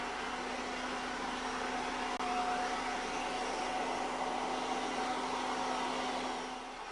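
A Kirby G5 vacuum cleaner running with the wall and ceiling brush attached to the suction control grip, a loud, steady motor whine and airflow hiss holding constant from start to finish and easing slightly at the end.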